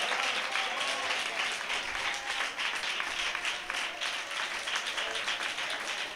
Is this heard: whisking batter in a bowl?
no